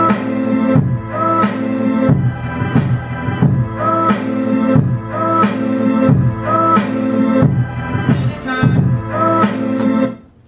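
A hip hop beat loops continuously, with steady drum hits layered under sampled melodic and bass material, dense and loud throughout before cutting off at the end, no voices over it.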